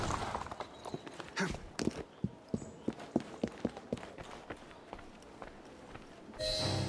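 A horse's hooves clip-clop along a street in Victorian London in Assassin's Creed Syndicate, a steady run of a dozen or so crisp, evenly spaced hoofbeats, close and fairly quiet, ending in a short burst of louder noise.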